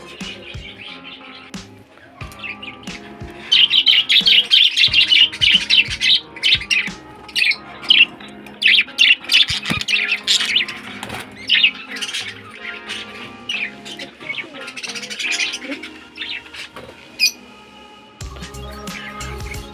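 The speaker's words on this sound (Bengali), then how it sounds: "মেল পাখিটা ওকে খুব বিরক্ত করছে" Pet birds squawking and chirping in a cage, a dense run of loud, overlapping sharp calls that continues with brief pauses, with a female hen suffering egg binding and being pestered by a male.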